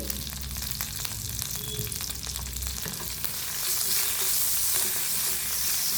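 Curry leaves and a pinch of asafoetida sizzle in hot tempering oil alongside frying urad dal for a spicy radish chutney, a close, continuous crackling fry with stirring that swells louder toward the end, no voices.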